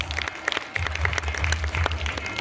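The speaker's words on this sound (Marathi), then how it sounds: "टाळ्यांचा आवाज" An audience at a Marathi women's fashion show competition claps, giving a dense patter of many hands under a low steady hum, sustained across the moment.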